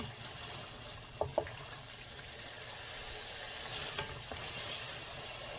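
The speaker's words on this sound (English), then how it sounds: "I'm just kind of pushing it back and forth with the flat end here." Tofu stir-fry sizzles steadily in a pan while a flat spatula pushes it back and forth, a continuous close hiss broken by a few light scraping clicks, with no talking.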